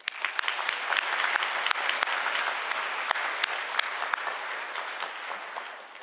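Sustained applause from a large audience at a university engineering graduation congregation, steady dense clapping with sharp individual claps throughout, tapering slightly at the end.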